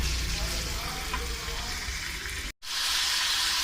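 Green chicken karahi frying hard in a wok, a dense steady sizzle that fills the clip, cut by a brief dropout near the end before the loud frying resumes.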